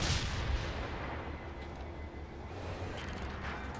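Heavy naval gunfire with incendiary shells in World of Warships, a sustained booming roar of artillery with a loud blast at the start and continuous rumble afterward.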